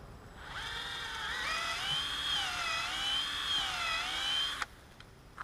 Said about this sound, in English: So you want to drill in at an upward angle about 2 inches.